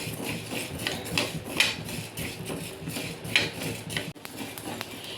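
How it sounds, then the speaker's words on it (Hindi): Spices dry-roast in a pan over a gas flame with a constant crackling hiss and repeated metallic clinks and scrapes of stirring against the pan, fairly close. "इस पैन के अंदर मैं सारे मसाले डाल देती हूँ और इसे 1-2 मिनट भून लेती हूँ।"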